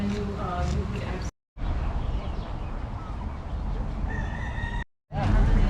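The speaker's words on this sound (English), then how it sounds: "Chicken. What a chicken." A rooster on a Hawaiian macadamia nut farm crows loudly and close by, with clucking from other chickens, over steady outdoor background noise and brief gaps in the sound.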